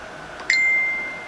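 A single phone notification chime rings out clearly, a short bright ding that lingers briefly before fading in a quiet room.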